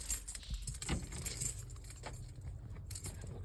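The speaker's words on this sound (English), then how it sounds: "Get my keys." Keys jangle and rattle close by for a few seconds, handled near a car.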